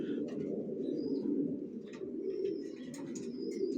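Racer pigeons coo in a low, continuous warbling murmur close by, with a few faint chirps and light background noise.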